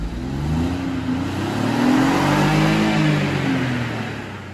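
A BMW 418i Gran Coupe with the B38 three-cylinder engine revs steadily and loudly, its low throaty note rising and falling across several seconds with no one talking.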